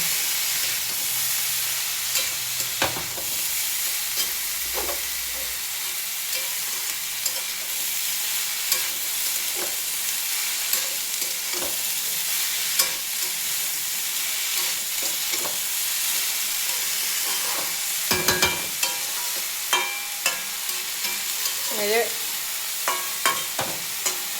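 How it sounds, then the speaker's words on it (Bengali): Brinjal frying with small fish in a pan, a constant close sizzle and hiss broken by frequent sharp spatter pops and occasional stirring scrapes, with no talking. "বেগুনটা দিয়ে দিয়েছি, দেখো ভাজাটা প্রায় হয়েই গেছে।"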